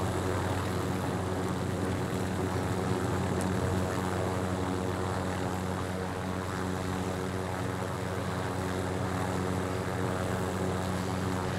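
Helicopter in the video game Call of Duty Rebirth Island, a constant loud droning rotor and engine hum that holds steady and alone throughout.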